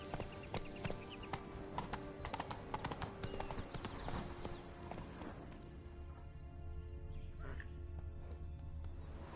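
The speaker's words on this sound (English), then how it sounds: "Giddy up." Steady horse hooves clip-clop in a fairy-tale-land video game, a quick rhythmic trot heard close and continuous with game sounds and faint music in the background.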